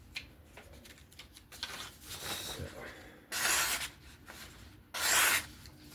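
A knife edge is honed and checked freehand: soft scraping rubs, then two louder, brighter rasping strokes, close and quiet with no talk.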